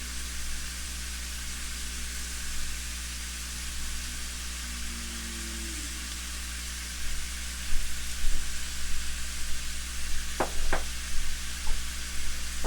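Ground beef browning in a pot with onion added gives a steady, even sizzle and hiss that continues throughout, with a few light knocks near the end, and no talking.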